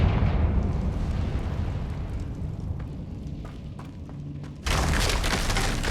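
A Confringo blasting spell explodes in the video game Hogwarts Legacy: a heavy, rolling rumble that swells, then a sudden louder burst of crackling blast noise near the end, with no voices.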